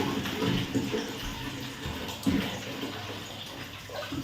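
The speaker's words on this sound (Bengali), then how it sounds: "যতক্ষণ বটলটা ভরছে ততক্ষণ আমি ফিল্টারে একটু জল ঢেলে নিই।" Water pours into a filter while a bottle fills at home, a steady splashing, trickling flow that stays fairly close and continuous with a few louder gurgling surges.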